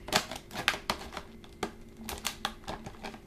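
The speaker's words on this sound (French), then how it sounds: "pour le déballage, je vais utiliser des grands ciseaux" Large scissors snip through packaging for a Carrefour eco light bulb, giving a series of sharp, irregular close clicks and crunches about every half second, with no talk.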